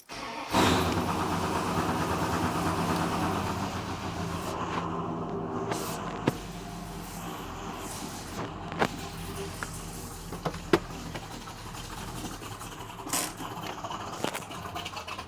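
Dodge Ram engine with a weak, untuned state cranking into life near 0.5 s, then running with a rough, steady rumble and scattered clanks and ticks over about fifteen seconds, loud and close with no talk.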